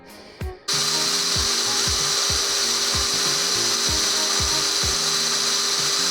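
A power drill runs close and loud after a short start, a steady whine with repeated dips and catches as the bit bores through the workpiece. There is no talk.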